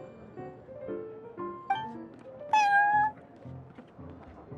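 Prince, a cat in Genshin Impact, meows several times in close succession, each call short and clear, with a louder, longer meow near the middle and a quiet game background underneath.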